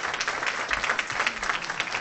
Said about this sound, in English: Can I get a big round of applause for Nathan MacPherson?